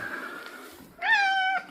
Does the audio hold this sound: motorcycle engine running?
no